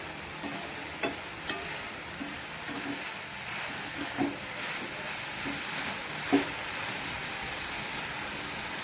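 Methi bhaji with peanut powder stirred in a pan: a steady soft sizzle with faint scraping strokes of the spoon every second or so, close and quiet, with no talk.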